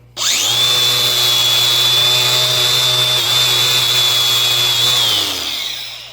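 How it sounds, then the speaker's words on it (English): Angle grinder fitted with a wire wheel scours a trailer axle part clamped in a vise for a vintage 1964 Little Champ camper, spinning up to a loud, steady whine that holds for about five seconds before winding down. "I'm actually going to use the grinder with the wire wheel"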